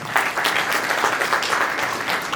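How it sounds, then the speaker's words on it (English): A roomful of people breaks into a full, continuous round of applause welcoming a speaker at a Malaysian Indian community dialogue event, loud and dense throughout with no talk over it. "Please, let's give a big round of applause"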